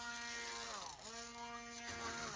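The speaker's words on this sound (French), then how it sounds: "Je vais éteindre et je vais mixer." A blender with cooked pears in a pot runs at a loud, close, steady buzzing whine, its pitch dipping briefly once as the load shifts.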